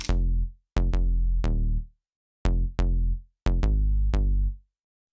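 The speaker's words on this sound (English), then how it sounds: "So we've got our bass and it sounds like this." Deep bass notes play alone in a sparse pattern, each plucked note ringing briefly before decaying, with short gaps between phrases.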